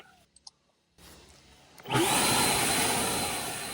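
After a few faint clicks and a brief quiet, an Ego Commercial LBPX8006 leaf blower starts up and runs with a loud, steady, close whooshing roar.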